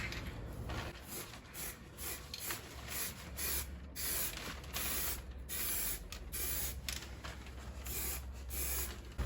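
Spray gun applying a second coat over body filler on a Jeep Patriot, a steady close hiss broken into short bursts and passes, with faint handling noises between.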